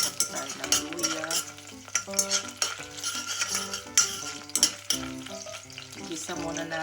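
Ginger sautés in a pan for Filipino beef soup, a loud close sizzle with frequent metallic scraping and clinking of a utensil stirring against the pan, no talking.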